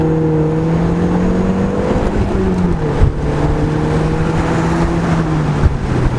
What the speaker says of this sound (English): you hear the turbo spool